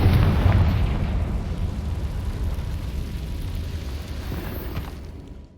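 A Confringo spell explosion in the video game Hogwarts Legacy bursts loud at the start, a deep rumbling blast that slowly fades over several seconds, with no talk.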